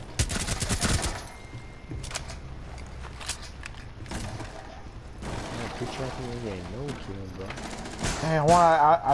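Gunfire in Rainbow Six Siege: bursts of rapid shots, loudest at the start, with scattered single cracks and further bursts later amid game noise and players talking.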